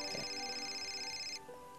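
A mobile phone rings steadily with a repeating electronic tone at close range, cutting off near the end, with no talk over it.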